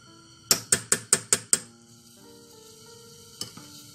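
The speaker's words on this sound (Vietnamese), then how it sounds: "bây giờ mình sẽ luộc cho cái bột bán của mình nó chín lên" Six quick, evenly spaced metallic clinks from a spoon stirring tapioca pearls boiling in a pot, then a steady low bubbling with one more faint tap near the end; close, with no talking.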